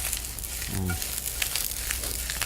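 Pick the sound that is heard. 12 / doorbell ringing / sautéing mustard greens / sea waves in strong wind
sautéing mustard greens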